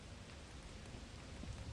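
Steady rain falls in a video game on a rainy planet, a dense, even hiss with a low rumble underneath, continuous and moderately quiet throughout with no voices.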